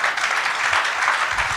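Brief, steady applause from a congregation audience at a PhD hooding ceremony after a speech, a dense wash of many hands clapping at an even level.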